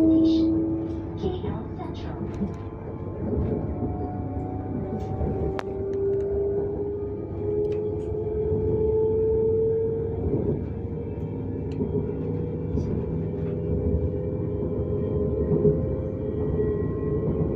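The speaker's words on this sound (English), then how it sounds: "This KLIA Transit train is bound for KL Central." Steady rumble and whine of a KLIA Transit Siemens Desiro electric train riding toward KL Sentral, with humming motors, rolling wheels and faint clicks throughout, while a voice speaks over it.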